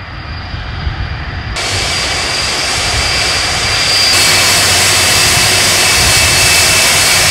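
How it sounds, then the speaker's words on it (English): A Boeing British Airways jet airliner landing at an airport, its engine roar steady and loud, swelling noticeably partway through and holding a broad, continuous rush to the end. "when the Boeing British Airways flight landed at the airport"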